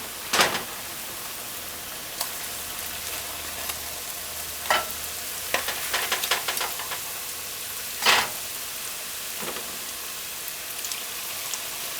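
Festival dumplings fry in hot oil with a steady, crackling sizzle throughout, punctuated by a few louder spits and clatters as pieces are turned or lifted out.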